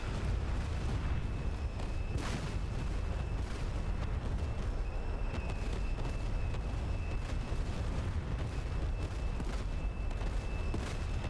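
Anti-aircraft flak bursting in DCS World, a dense continuous barrage of booming explosions with sharper cracks scattered throughout, loud and unbroken with a faint steady tone above.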